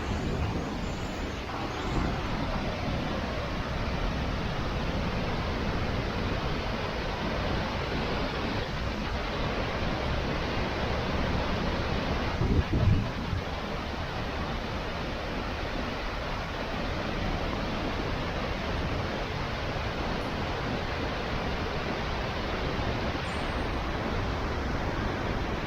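Roaring Icelandic waterfall heard as a dense, steady wash of broadband rushing water, loud and continuous throughout with no gaps.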